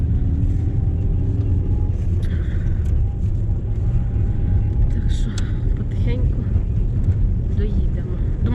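A car pulls away after a wash on a road trip in Kirovohrad region, its engine giving a steady, close, low rumble that holds evenly throughout with little change in level.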